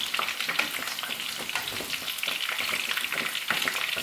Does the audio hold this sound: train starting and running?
no